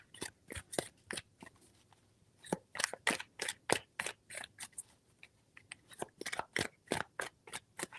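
Tarot cards being shuffled by hand, a long run of crisp, sharp card snaps and flicks in quick irregular bursts, close and fairly quiet, with no talking.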